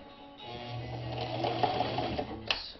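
A Japanese-made Sewmor sewing machine stitches through denim in one short, fast, steady mechanical whir that builds in pace and ends with a clunk.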